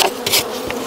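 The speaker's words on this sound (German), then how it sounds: "Die vereinzelten Bienen da sind nicht mehr wild" Honey bees buzz close to the microphone at a hive, giving a brief loud hum that swells and dips as single insects fly past.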